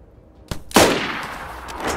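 Gunfire from DayZ on a dangerous mountain map, two sharp shots around half a second and three-quarters of a second in, the second louder with a long reverberant tail that lingers to the end.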